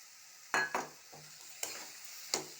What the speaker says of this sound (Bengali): এবার আমি এই যে বেগুনটা ঢেলে দেব